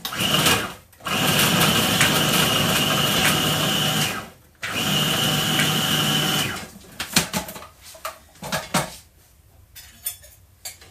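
Food processor whizzing butter and ingredients for cheese and pepper shortbread cookie dough, two loud close motor runs of about three and two seconds, followed by clattering of the bowl and lid.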